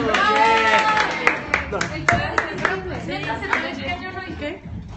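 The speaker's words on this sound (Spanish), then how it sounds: "Aplausos." Applause at a Secret Santa gathering, a few bursts of hand clapping mixed with overlapping voices and chatter, fading toward the end.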